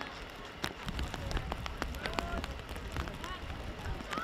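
Rain pattering steadily on a soccer field during an evening girls' varsity game, a dense hiss of drops with scattered sharper taps, under crowd noise and voices.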